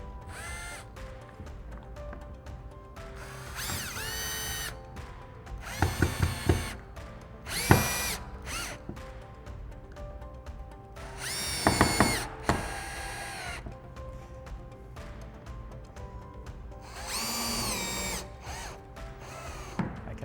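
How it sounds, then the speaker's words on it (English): A power drill on a low torque setting whirs in several short bursts, pausing between each as screws are driven into plastic, with faint clicks and handling noises in the gaps. "using a drill with the torque setting set quite low"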